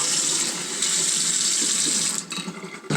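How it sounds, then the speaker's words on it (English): Cold water runs from a kitchen tap into a container, a steady loud hissing stream that briefly breaks up near the end as the flow shifts. "You take your container and turn on the water to cold."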